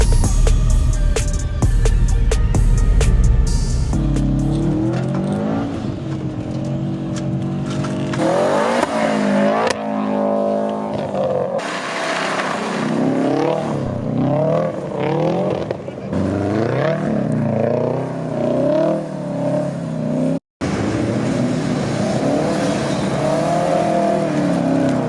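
Nissan Skyline R32 sedan in snow, engine revving hard and rising and falling through repeated accelerations, loud and close, with a brief cut near the end.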